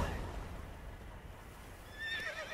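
A horse in The Witcher 3 video game whinnies near the end, a rising-and-falling high neigh after a stretch of low ambient rumble, fairly close and clear with no talk over it.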